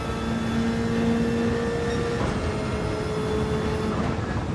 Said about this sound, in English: I like it when you let off the throttle and it does that whistly sound